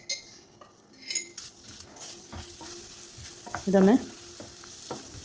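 A spoon stirring banana pieces in ghee in a pan, with scraping and clinking of metal against the pan over a soft sizzle; a brief spoken word cuts in near the middle.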